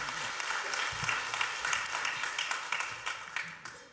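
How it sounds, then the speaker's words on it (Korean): A church congregation at a Korean Sunday worship service breaks into applause, a dense, fairly distant wash of clapping that carries steadily and begins to thin out toward the end. "큰 박수 내겠습니다."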